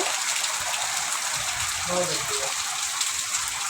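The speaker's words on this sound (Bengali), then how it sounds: "কারণ বৃষ্টি হচ্ছে" Heavy rain falls in the Andaman Islands among coconut and areca palms, making a dense, steady wash of hiss that never lets up, with a faint voice briefly audible underneath.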